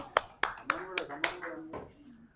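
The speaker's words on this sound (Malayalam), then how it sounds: "കൈയടിക്കോ?" Group of people clapping hands at a picnic, with about six sharp separate claps in an uneven rhythm that fades out, close by, with voices talking over them.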